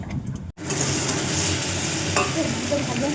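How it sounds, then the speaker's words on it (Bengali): After a brief cut, loud continuous sizzling of vegetables frying in a pan on a clay stove, with scraping of a spatula as it is stirred. "সবজি ভালো করে কষিয়ে নিয়েছি"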